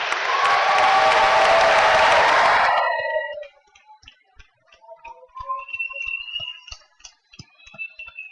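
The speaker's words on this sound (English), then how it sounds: "I think that's worth a round of applause," A crowd at an engineering college commencement ceremony bursts into loud applause for about three seconds, then it stops abruptly, leaving quiet room sounds and faint scattered clicks.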